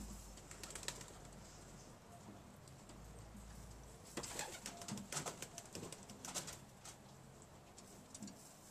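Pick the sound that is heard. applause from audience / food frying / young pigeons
young pigeons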